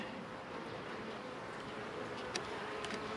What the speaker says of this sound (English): just a couple of bees inspecting it